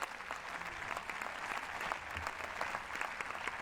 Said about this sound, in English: Keep the clapping going,